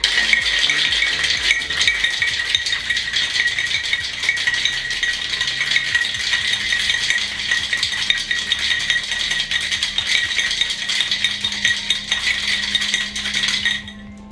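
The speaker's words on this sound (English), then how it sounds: "Now give it a good hard shake, 8 to 10 seconds, get it nice and chilled and foamy." A cocktail shaker shaken hard for an Absinthe Sour, ice rattling loudly and steadily for about fourteen seconds before stopping abruptly.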